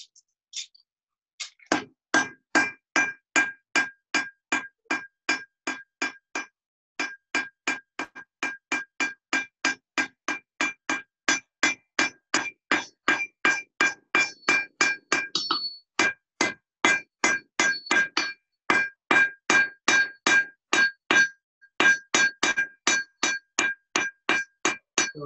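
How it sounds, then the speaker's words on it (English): A blacksmith hammers hot iron at black heat in a forging demonstration, with dozens of sharp ringing metallic blows in a steady brisk rhythm, briefly pausing twice, close and clear with no talk. "So again, I'm just forging that down just a little bit at that black heat."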